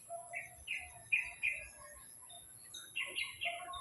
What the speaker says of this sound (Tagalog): Tingnan nyo guys yung dalawang ibon.